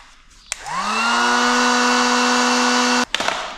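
A heat gun blows on heat shrink tubing over a car wire, spinning up with a rising whine into a steady, loud, close whirr for about two and a half seconds before clicking off.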